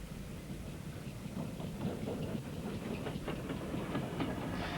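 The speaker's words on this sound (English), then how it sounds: "the railway had to use a diesel train on part of the line, so passengers would change over to it at Blue Anchor station" A diesel train running on a heritage line near Blue Anchor station, a low steady rumble with faint clickety-clack of wheels over rail joints, heard at a distance and fairly quiet.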